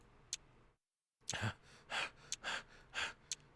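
Heavy, labored breaths of a character running hard through a maze-like castle in the Kagetsu Tohya game, several loud gasping exhalations in an uneven rhythm after a brief silence.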